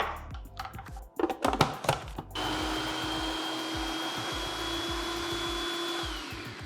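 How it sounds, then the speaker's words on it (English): Blender whirring steadily as it purees onion and garlic together, a sustained high-pitched motor hum lasting several seconds after a burst of clattering and handling noises. "puree the onion and the garlic together"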